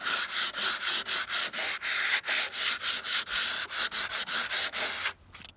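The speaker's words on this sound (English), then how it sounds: "I'm going to try some 150 grit sandpaper just to see what happens to those fibers." Sandpaper of 150 grit rubbed by hand across the boards of a new cedar deck, about twenty brisk, even scraping strokes in a quick rhythm, close up. The strokes stop abruptly near the end.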